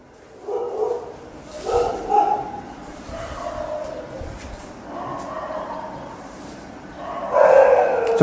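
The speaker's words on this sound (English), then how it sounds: "So can you hear the dogs?" Several dogs bark and yip in a street outside, heard from indoors in a few bursts with howling, whining tones, the loudest near the end.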